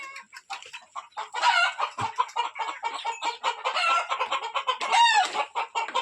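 About a hundred hens on a natural farm cluck and squawk close by in a busy, overlapping chorus, with a rooster crowing loudly near the end.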